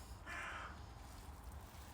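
A magpie calls once with a harsh, raspy note, quiet and somewhat distant against a low background rumble.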